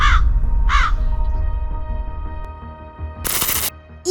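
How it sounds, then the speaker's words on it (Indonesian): Crow cawing twice, close and harsh, over a low rumbling background, followed later by a short burst of dense, noisy rattling. "Pasti gara-gara ada si burung gagak ini deh."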